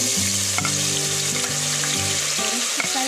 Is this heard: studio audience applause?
no